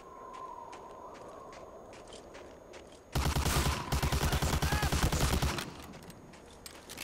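Gunfire in the video game Medal of Honor erupts as a loud, dense burst of rapid shots lasting a few seconds, preceded by quieter game ambience with light clicks and scrapes.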